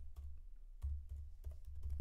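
Computer keyboard tapped in a few quick soft keystrokes, close and quiet, spaced irregularly over a couple of seconds.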